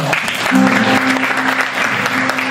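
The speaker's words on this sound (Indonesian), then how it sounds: "Tepuk tangannya mana?" Audience applause at a school talkshow in a high school hall in Denpasar, a steady dense wash of clapping from a crowd filling the whole clip, with a faint tonal hum underneath.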